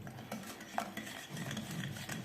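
Biscuit dough ingredients, including oil, being stirred together in a bowl, faint scraping and clinking of a utensil against the dish at close range, no talk.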